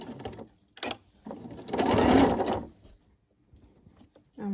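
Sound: sewing machine stitching through three fabric layers

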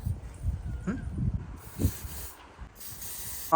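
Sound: aerosol spray being sprayed

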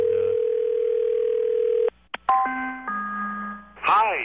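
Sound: telephone ringing when calling a house

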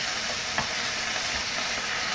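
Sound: sautéing chicken with onions and garlic

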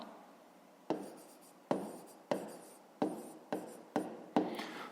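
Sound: writing by hand while noting a math solution

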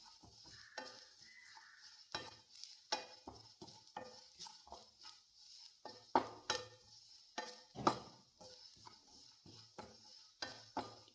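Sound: stirring roasting coconut in a pan for fish curry

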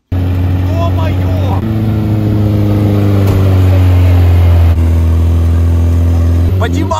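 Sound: Zaporozhets car engine revving while driving in sand

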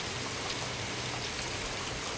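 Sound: heavy rain falling

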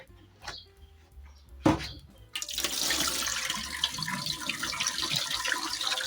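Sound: rinsing cherries under running tap water

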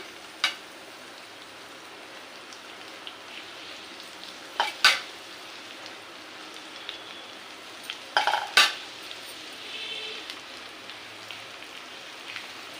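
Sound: amaranth leaves added to pan and stir-fried

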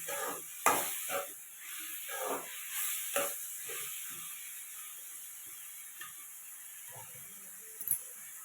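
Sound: tomatoes and onions being sautéed in a pan

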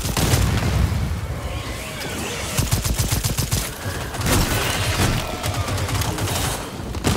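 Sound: explosives and gunfire in video game Second Extinction

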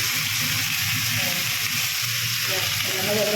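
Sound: radish greens frying in a pan

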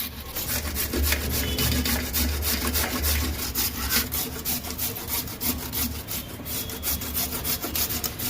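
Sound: grating fresh turmeric with a grater

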